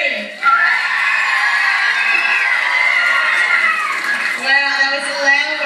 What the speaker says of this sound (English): I want to hear a big cheer from them on the count of 3